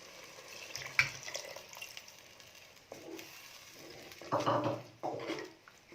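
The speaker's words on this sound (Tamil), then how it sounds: "இப்போ நம்ம புளி தண்ணி ஊற்றிக்கலாம்." Tamarind water is poured into a simmering Kerala-style fish curry (meen kulambu), with a brief splash early on, then a louder, sustained pouring rush near the end that tapers off, with no voice heard.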